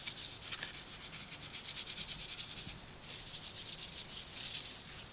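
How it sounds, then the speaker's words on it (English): Very light grit sandpaper rubs on the wood of a Squier Stratocaster guitar in quick, rhythmic close-up strokes, one run of strokes, a short pause, then a second run. "very light grit sandpaper."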